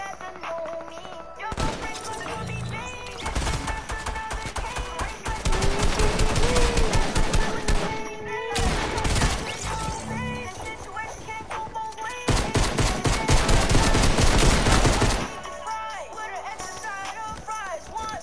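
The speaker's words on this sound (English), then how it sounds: "I'm trying to shoot him with a pistol." Rapid gunfire bursts in the video game Fortnite, dense crackling volleys that come and go in long stretches, loud and close, with brief quieter gaps between.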